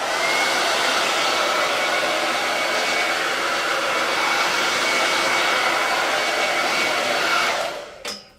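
A hair dryer blows steadily over a freshly brushed layer of coffee-bean chalk paint on a cotton base coat, a loud continuous whoosh lasting several seconds before switching off with a soft click.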